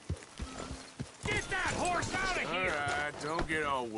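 Horse hooves clip-clopping in Red Dead Redemption 2, a few scattered hoof hits at the start before loud voices take over and talk continues on top for the rest.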